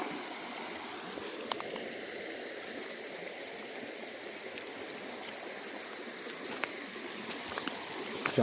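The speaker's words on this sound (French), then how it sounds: "Que la rivière fasse plus de bruit." Steady rushing flow of a river over stones, continuous and fairly close, with a few faint splashes and ticks on top.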